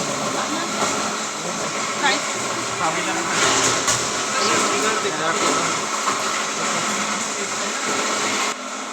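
A plastic grinding unit in a granule-making plant chops plastic into small pieces, giving a steady loud whirring roar with a rattling, churning texture that runs throughout, with someone talking over it.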